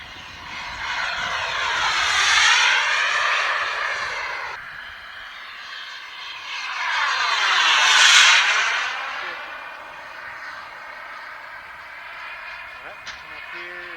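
A loud RC model jet makes two roaring fly-bys, each rising then falling in pitch as it sweeps close past, with a quieter whine between passes.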